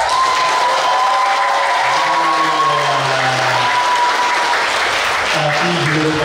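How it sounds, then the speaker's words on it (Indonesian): A large seminar crowd at a business motivation event bursts into sustained, loud applause that holds steady throughout, with a voice calling out over it. "Tepuk tangan 1 miliar kita"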